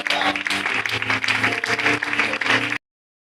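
A church congregation applauding and acclaiming Jesus, dense steady clapping from many hands with cheering voices mixed in, loud and close, cutting off abruptly near the end.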